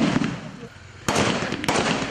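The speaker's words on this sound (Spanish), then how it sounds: "¡Explosión!" Sharp blasts ring out at a police special-forces training exercise in Cali, two sudden loud cracks over a noisy, busy background.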